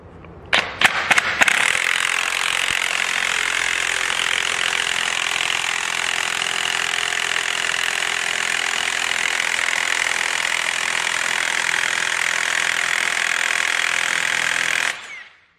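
An impact driver hammers steadily on an impact socket until the socket snaps, a continuous loud buzzing rattle lasting about thirteen seconds after a few quick clicks at the start, then stopping abruptly.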